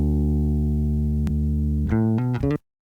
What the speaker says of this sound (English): If you extend it out, this is what I'm talking about by warble.